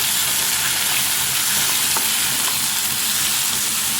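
Sliced onions and chopped tomatoes fry in a pan with a dense, steady sizzle. The crackle is loud and close and runs the whole time with no one speaking.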